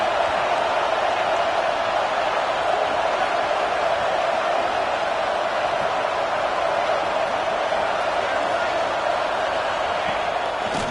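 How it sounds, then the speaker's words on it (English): Home crowd at a postseason football game roars in a steady, dense wash of cheering that stays loud and unbroken throughout, with no distinct voices standing out. "this home crowd is fired up and ready to make a difference today"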